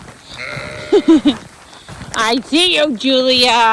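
Sheep and goats bleat on a farm during a blizzard: a few short wavering calls, then longer loud bleats close by, with a person speaking briefly between them.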